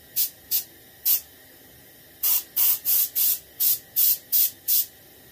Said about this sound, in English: You might want to turn the pressure down on your airbrush too.